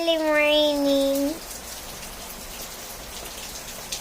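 Rain falls outside in a steady, even hiss, preceded by a brief tonal voice-like sound at the start.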